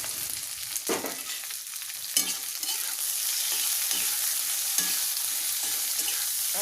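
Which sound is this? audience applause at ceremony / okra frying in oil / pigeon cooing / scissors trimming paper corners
okra frying in oil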